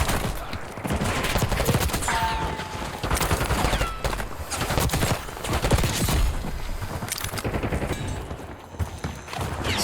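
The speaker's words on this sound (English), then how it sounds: "you want to practice going around and hip firing and then ADS along with your strafing" Hip-fire gunshots in Call of Duty Warzone crackle in dense, irregular bursts, loud and close, with thumping impacts and continuous game noise between volleys.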